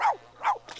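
A dog barks in The Sims 4 video game, two short, bright barks followed by a softer yelp, close and clear with no voices over it.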